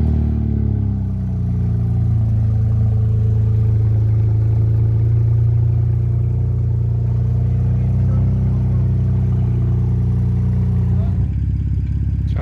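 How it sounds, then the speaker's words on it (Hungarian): Car engine made loud by a missing rear exhaust section, a deep steady droning rumble held at idle close by, with a brief clattery change near the end. "Egyébként azért ilyen hangos, mert nincs is alatta a kipuffogó hátsó része."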